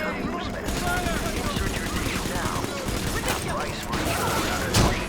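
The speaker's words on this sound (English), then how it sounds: "We have a Gatling gun now" Rapid, continuous bursts from a Gatling gun in the BioShock game, a rattling stream of gunfire with a louder shot near the end, while someone talks over it.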